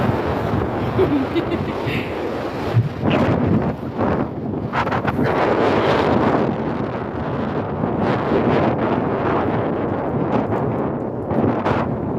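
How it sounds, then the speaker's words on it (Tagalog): Strong, gusty wind on the Po Toi Islands buffets the microphone with a constant low roar, and a voice talks faintly underneath. "Ang lakas ng hangin."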